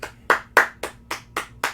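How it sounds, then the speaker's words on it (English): One person claps hard and loud, seven sharp, evenly spaced claps about a quarter second apart, close up and alone without talk. "Ryan, I told you to stop clapping so loud."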